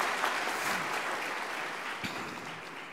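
A graduation ceremony crowd at the University of Nairobi claps steadily, a dense and fairly even applause that carries through the whole moment without any speech.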